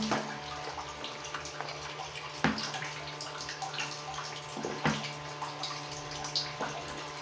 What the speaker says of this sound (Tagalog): Kailangan haluin lang ng haluin. Haluin natin ang bongga.